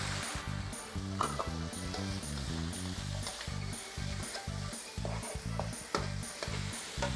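Onion sizzles in a stir-fry pan with a ready-made sauce of sugar, fish sauce and pepper for ramen. A loud, steady frying hiss runs throughout, broken by rhythmic scraping and tossing of the spatula.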